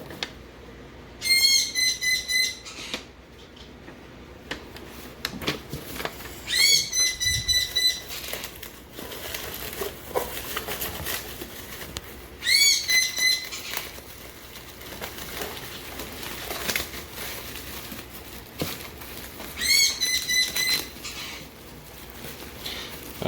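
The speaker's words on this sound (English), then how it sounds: "That's my bird screaming, if you guys don't know already." A pet bird screeches in a room in repeated harsh bursts, about four loud shrill calls spaced several seconds apart, over faint background rustling and handling noise.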